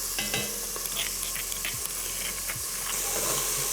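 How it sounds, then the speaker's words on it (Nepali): Pieces of lamb and crushed garlic sizzle steadily in a hot pan for a lamb and potato curry, with a few scraping stirs of a utensil over the continuous frying hiss. "ल्याम्बसँगै गार्लिकलाई भुट्दै गरौँ"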